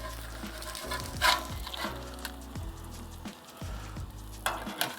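Eggs frying on a Blackstone 28-inch griddle give a steady close sizzle, broken by several scraping clicks and taps as two spatulas work under them and flip them; no one talks.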